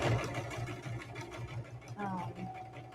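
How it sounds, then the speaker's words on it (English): Sewing machine stitching fabric for a rag bag, a quick rhythmic mechanical whir with a faint pitched whine near the end, heard under a talking voice. "sewing."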